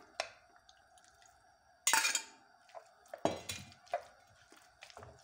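Pasta with mushroom sauce is stirred in a frying pan: scattered metallic scrapes and clinks of a utensil against the pan, irregular and close, with a faint sizzle.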